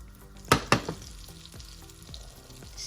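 Butter melts and sizzles in a frying pan over moderate heat. A steady soft crackle is broken by two or three sharp clacks early on, with no talking.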